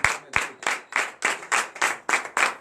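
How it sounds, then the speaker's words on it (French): A congregation claps after a morning prayer, a steady rhythmic beat of about ten sharp, evenly spaced claps in unison, close and fairly loud. "Donnez de vive acclamation."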